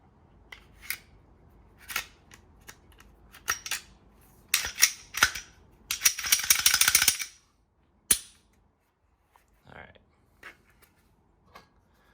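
Glock pistol magazines being emptied and the slide locking back: a run of sharp metallic clicks and clacks, bursts of rapid rattling and a final crisp snap, close and loud with quiet gaps between.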